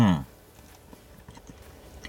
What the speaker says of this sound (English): Let's go for a few more bites, and we're getting into that spicy variant.